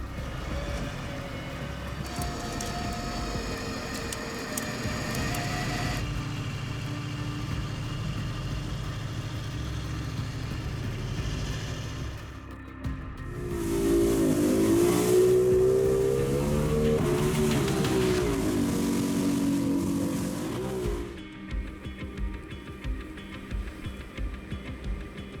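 A jet boat motor runs on the Fraser River, a steady mid-distance engine drone that shifts in pitch, surges louder and higher midway, then drops back to a lower hum.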